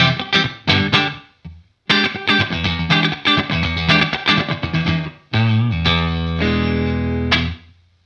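Electric guitar through a Zoom 505ii multi-effects pedal set to reverb, a fast run of distorted picked notes and chords, a short pause, then more riffing ending on a ringing sustained chord.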